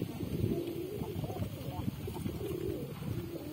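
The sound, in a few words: pigeons cooing outside the loft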